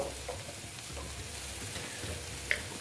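Ground spices fry in hot oil in a pan for a Bengali boal fish curry, giving a steady low sizzle with soft stirring scrapes throughout and one brief sharper clink near the end.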